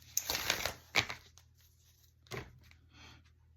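Tarot cards being shuffled and cut by hand, a few short riffling, flicking bursts separated by quiet pauses, close and soft.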